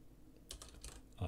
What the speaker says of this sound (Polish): W przeglądarce wpisuję sobie coś takiego jak Blender